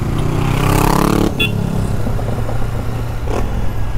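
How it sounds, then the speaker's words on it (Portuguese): A car driving past on a road near a parked motorcycle, a broad engine rumble that swells close by in the first second and then fades into steady road noise, with no talking. "deixa eu deixar o carro passar aqui"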